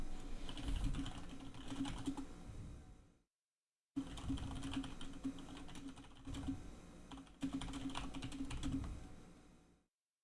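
Fingers tapping out a text message on a phone, a steady run of quick, close taps that pauses briefly mid-way and then resumes, with no voices.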